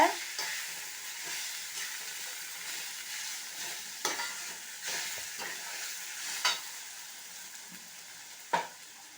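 Scraped ridge gourd peel sautéed in a pan for a Chettinad-style thogayal, a continuous gentle sizzle with periodic scraping strokes of a spatula, heard close with no talking.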